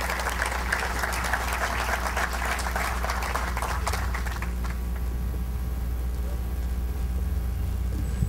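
Steady, dense applause from an audience welcoming a speaker at the inauguration of underground parking in Miraflores, lasting about four seconds before fading out to a quiet room hum.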